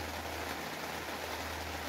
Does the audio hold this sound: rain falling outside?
yes